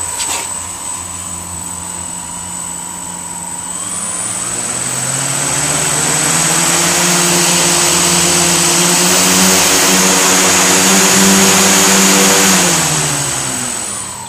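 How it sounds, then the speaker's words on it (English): Quadcopter motors, run from two 2S LiPo batteries in series at 15V, spin up in a throttle test: a loud, close electric whine climbs steadily in pitch over several seconds, holds, then starts to wind down, with no talking. "So that's it, just testing the motors."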